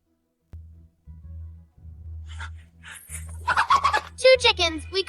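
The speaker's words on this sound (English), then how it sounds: "Two chickens. We caught 2 chickens." Two caught chickens give repeated clucking and squawking calls that grow louder and busier toward the end, over a steady low droning hum.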